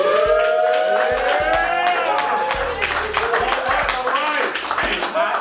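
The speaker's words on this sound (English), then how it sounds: "Crowd makes noise." Audience at a hip hop show cheering and clapping, with dense overlapping claps and shouts mixed with loud music and voices throughout.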